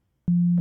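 Synthesized 808-style sine wave tone in Bitwig Studio, a single pure low hum that starts abruptly and holds steady for about a third of a second before cutting off.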